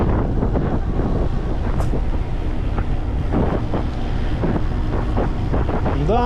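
Wind blows hard outdoors on a Crimean coastal route, buffeting the microphone in a constant low roar with gusty rumbles throughout, faint voices barely surfacing.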